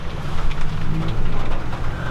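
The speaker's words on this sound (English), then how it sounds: "You can hear the rain starting." Rain beginning to fall outdoors beside a 1971 Mercedes-Benz 300SEL 6.3, a steady broadband patter and hiss that is fairly loud and continuous, with no voices.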